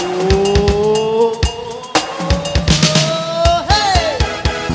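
A car drives hard with repeated sharp tire squeals and skids, loud and close, several shrieking bursts in quick succession over a revving engine, with a brief exclamation from a voice.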